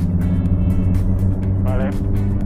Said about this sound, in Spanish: Viene un coche, ¿eh?